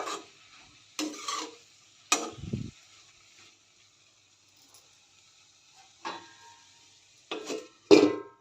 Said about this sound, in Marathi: आता मीठ घालून सगळं मिक्स करून घ्यायचं आहे हे व्यवस्थित।